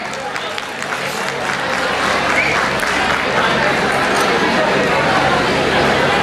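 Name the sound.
audience applause at college festival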